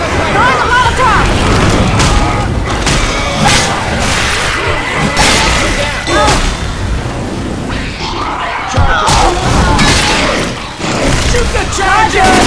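A Molotov cocktail thrown and bursting into flame in Left 4 Dead 2 on Expert Realism: loud whooshing swishes and heavy rumbling over a constant din of game noise, with voices talking throughout.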